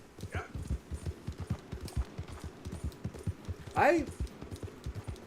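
A horse being ridden in an Old West video game, its hooves clip-clopping in a steady, even rhythm, faint and under a voice, with a brief louder sound partway through.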